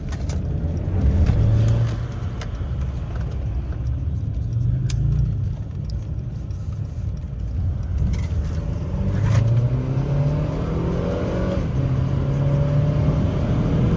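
A Mercedes-Benz C300 with its check engine light on is driven hard, its engine droning and rising in pitch through repeated revs over a constant road rumble from inside the car.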